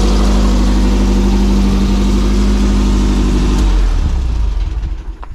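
Beach buggy engine, transplanted from another vehicle, running loud and close with a steady rough idle that cuts out and winds down near the end.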